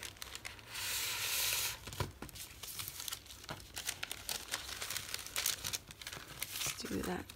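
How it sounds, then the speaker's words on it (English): Thin saran-style plastic wrap from a stationery unboxing is crinkled and torn close up in bursts of rustling and ripping, while a person talks over the handling throughout. "So just hold on to the plastic and just rip it."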